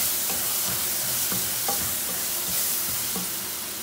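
Vermicelli toasts in a pan with a steady close sizzle and hiss, broken by a few light stirring knocks at irregular intervals, with no voices.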